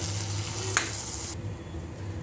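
Hot tempering tipped into pappu pongal on the stove gives a loud, bright sizzling hiss with one sharp pop, then cuts off abruptly to a quieter low rumble.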